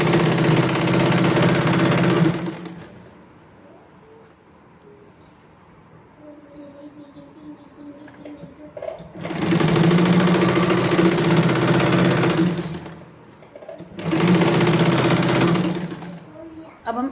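An electric sewing machine stitches a waistband onto a pair of girls' shorts, running loud and close in three steady bursts separated by quiet pauses while the fabric is repositioned.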